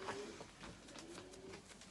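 A tiger grizzle racing pigeon hen at a bird show coos softly in short, low murmuring phrases, close and steady against a busy indoor background.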